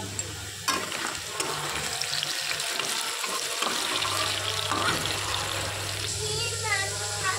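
Potatoes fry in oil in a pan on a gas stove, a steady crackling sizzle running throughout with a constant low hum beneath and occasional clatter of stirring.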